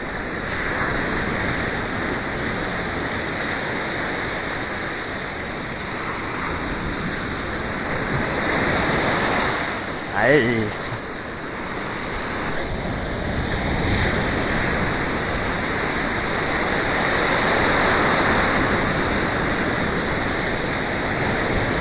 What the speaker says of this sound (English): Here comes a good wave.